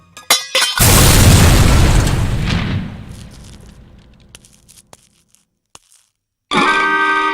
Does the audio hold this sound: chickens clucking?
no